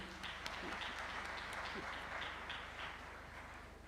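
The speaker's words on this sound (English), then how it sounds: "A big round of applause to their excellencies" Audience applause at the Africa Forward Summit for heads of state, including Presidents Ruto and Macron; sustained clapping from a large hall with a low steady hum beneath, fading slightly toward the end.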